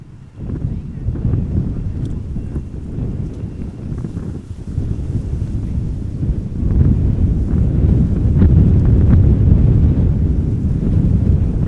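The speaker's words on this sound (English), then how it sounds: "the wind is blowing with 14 knots from 250 degrees, varying between 220 degrees and 280 degrees" Wind at Amsterdam Schiphol Airport, blowing at around 14 knots, buffets the microphone with a continuous low rumble that swells louder in the second half.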